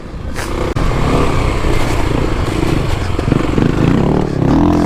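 A 2021 Kawasaki KLX300 dirt bike rides off-road toward single track, its engine droning loud and steady with rough revving and rattling clatter throughout, briefly dipping once near the start.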